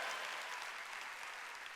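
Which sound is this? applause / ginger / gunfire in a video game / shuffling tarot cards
applause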